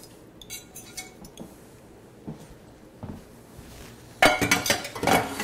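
Utensil clinking against a bowl while stirring a Tex-Mex quiche egg mixture: scattered light clinks at first, then a louder run of rapid scraping and tapping strokes near the end, close by and with no talk.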